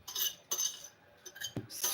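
Onions dropped into a blender jar while making akara, a few quick hard clinks and knocks against the container at close range.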